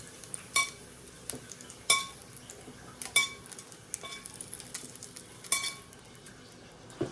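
Metal utensils clink and scrape against a pan at irregular intervals as crisp guanciale is lifted out for carbonara, with a faint sizzle of fat underneath and no voices.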